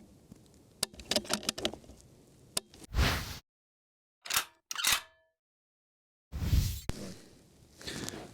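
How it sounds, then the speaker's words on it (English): Someone works the bolt of a precision rifle, producing quick metallic clicks and clacks, sliding swishes and short bursts of handling noise, separated by brief silences. "make sure your hand stays on that bolt when you work it"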